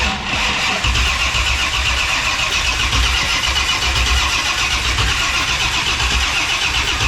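A 1969 Mach 1 Mustang with a custom exhaust cranks over steadily with the coil wire unplugged, a loud, continuous churning drone with no catch, close and alone throughout.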